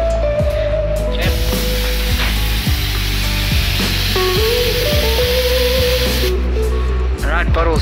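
A spray gun at a spraying station coats plastic bottles, giving a continuous, fairly loud hiss across the whole stretch, with faint tonal background sounds and some indistinct voices.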